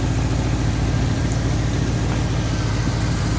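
A 2006 Pontiac GTO's LS2 V8 idles on an engine stand, a steady low rumble close by and fairly loud, even and unbroken with no one talking.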